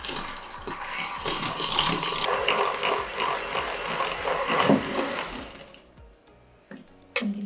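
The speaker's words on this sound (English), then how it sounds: "So we're gonna whisk it all together with this electric mixer." An electric mixer whisks eggs with a pinch of salt in a bowl, making a close, busy rattling whir that holds for several seconds, then fades toward the end.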